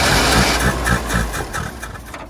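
A Ford Corcel 2 with a carburetor needing cleaning runs loud and close, its engine chugging unevenly at idle with pulsing rhythm, as if just caught after stalling.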